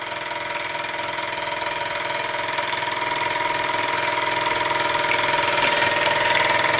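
A Luton Bowman PW201 model steam engine runs steadily, a continuous mechanical whir with fine rapid ticking, holding an even level throughout with no talk.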